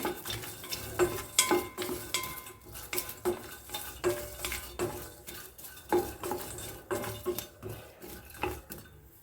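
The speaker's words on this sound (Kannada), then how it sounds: "ಒಂದು ದೊಡ್ಡ ಗಡ್ಡೆ ಬೆಳ್ಳುಳ್ಳಿ ತೊಗೊಂಡಿದ್ದೀನಿ ಇದನ್ನು ಸ್ವಲ್ಪ ಹುರ್ಕೋತಾ ಇದ್ದೀನಿ" A large whole garlic bulb dry-roasting in a pan, stirred with a utensil: repeated close clatters and scrapes of metal on the pan in an uneven rhythm, with a light sizzle underneath.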